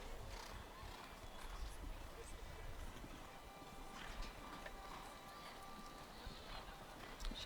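Horse hooves clip-clopping at a steady canter during a show jumping round in a grand prix arena, with faint whinnies and an announcer talking over the continuous crowd and arena noise.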